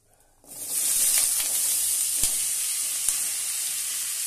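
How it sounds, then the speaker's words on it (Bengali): Potatoes fry in a pan with a steady, close hiss and sizzle that starts abruptly and carries on evenly, with a couple of faint clicks and no talk. "সবকটা আলু দিয়ে আস্তে আস্তে হালকা ভেজে নিতে হবে।"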